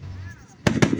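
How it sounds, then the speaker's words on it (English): Fourth of July fireworks burst in two sharp, loud booms close together near the end, following a stretch of quieter background with a voice talking. "Yeah, there's fireworks and green."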